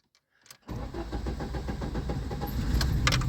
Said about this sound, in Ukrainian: Так, пробуємо заводимо автомобіль.